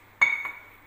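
A glass rod clinks against laboratory glassware while stirring a dissolving oxalic acid solution for titration, a single bright ringing tap with a short second touch, close and clear, fading quickly.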